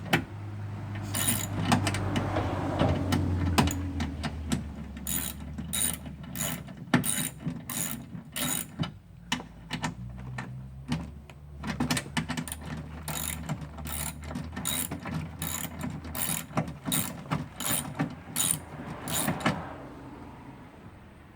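Screws being loosened on a window regulator motor of a 1999 Buick Century, with a ratchet clicking in quick rapid bursts, close and fairly faint, with a low mechanical rumble at the start.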